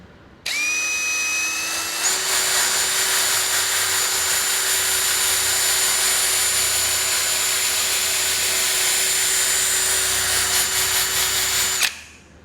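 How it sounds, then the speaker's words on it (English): A power drill whines steadily at high speed for about eleven seconds while removing headliner material in a Ram truck, its pitch rising briefly at the start, then cutting off sharply; no voices. "if you run the drill a little bit at a higher speed, keep it flat and light, this comes off very easy"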